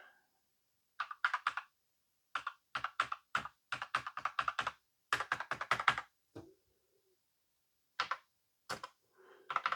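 Keys clatter on a computer keyboard plugged into a C64 Mini, coming in quick bursts of crisp, close clicks separated by short silent pauses.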